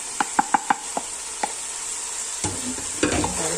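Spices being stirred into chicken biryani masala frying in a pan: a quick run of sharp spoon clinks against the pot, then close, steady sizzling and scraping stirring, with no talking.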